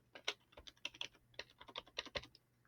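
Quiet keys tapped on a calculator keypad in a short irregular burst of about a dozen clicks, close by and alone with no voices.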